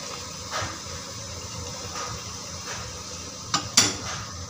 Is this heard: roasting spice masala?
yes